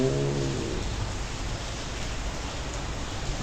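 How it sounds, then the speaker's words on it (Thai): Rain pours steadily outside a resort room in Chanthaburi, Thailand, a dense, even hiss that stays constant for the whole stretch, with a brief low tonal sound at the very start and no voices. "ข้างนอกตอนนี้ฝนตกอยู่"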